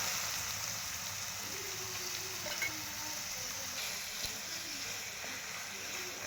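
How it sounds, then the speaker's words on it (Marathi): Chopped onion frying in hot oil in a pan with curry leaves for a home-style farsan bhaji, a soft steady sizzle with faint scraping clicks, close but quiet. "कांदा पण चांगला परतून घेऊया"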